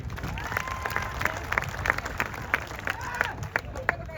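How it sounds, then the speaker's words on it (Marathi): A crowd at a wrestling event claps steadily for a young wrestler, a dense patter of hands with sharper individual claps recurring every fraction of a second, moderately loud throughout. "टाळ्या करा त्या पोरासाठी"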